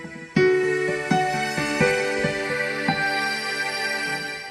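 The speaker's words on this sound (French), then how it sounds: "Je veux mettre mon orchestre de violon avec mon piano." Olya Pro keyboard in dual mode, acoustic piano layered with a violin orchestra, plays a few sustained chords with soft note changes, the string pad blending under the piano attacks, alone and fairly loud.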